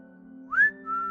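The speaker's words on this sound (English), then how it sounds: "A whistle rang out from the living room" A person whistles two clear, close notes over a steady low indoor hum: a short rising whistle followed by a longer sustained tone.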